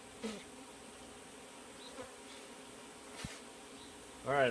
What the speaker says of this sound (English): I think I have a bee in my mask.